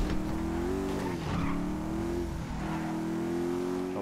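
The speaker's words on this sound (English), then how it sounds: "That's a monster fucking bike you riding" Motorcycle engine in the video game GTA 5, a big bike droning steadily at high revs throughout, loud and continuous with slight pitch dips as it rides.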